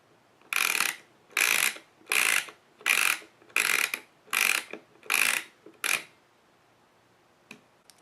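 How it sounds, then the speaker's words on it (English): A Graflex 23 roll film holder for a 4x5 camera clicks through eight rapid ratcheting bursts as its advance knob and gears wind the film, close and distinct, followed by a couple of faint clicks. "Push the release lever to the side, and that will allow you to advance the film using the film advance knob."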